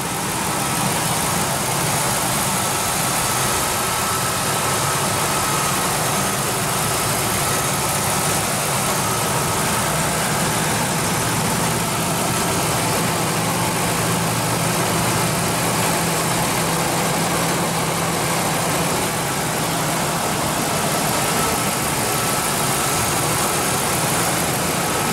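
A 4.6 L Triton V8 in a 2001 Ford F-150 SuperCrew idles steadily, a close, even engine drone with a constant low hum that runs without a break and with no voices.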